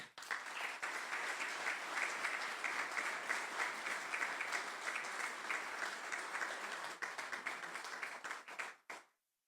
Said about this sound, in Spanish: Felicitamos al autor por tan excelente obra con un fuerte aplauso